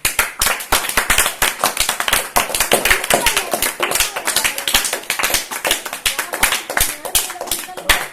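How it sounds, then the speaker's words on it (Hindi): Students in a school classroom clap for the opposing team in a competition, a dense burst of many hands clapping loudly and unevenly for several seconds with no talk over it. "अब जो है टीम सी के सभी स्टूडेंट्स जो है टीम एफ के लिए ताली बजाएं"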